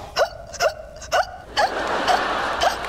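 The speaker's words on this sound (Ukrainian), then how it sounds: "бо я так гикну" A woman hiccups repeatedly in a comedy sitcom scene, giving five or six sharp, loud, voiced hiccups at an uneven rhythm about half a second apart, close to the listener.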